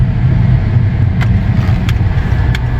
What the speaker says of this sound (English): about to drive the car to trigger the check engine light